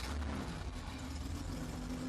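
A car engine fitted with Bosch K-Jetronic continuous injection runs steadily after being restarted, a low, even idle hum with a faint tonal drone and no change in speed.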